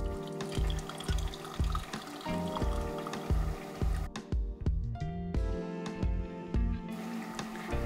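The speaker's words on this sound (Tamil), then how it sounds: "இப்போ நம்ம பாம் மேலே நல்ல சூடான பாலை ஊற்ற போகிறோம்." Hot milk pours in a steady liquid stream over a hot cocoa bomb, a continuous close splashing and filling sound with some clinks, no talking.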